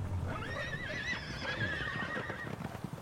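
A Pyrenean horse at a breeding farm in Burgundy gives a long, clear whinny close by, with hooves clip-clopping underneath.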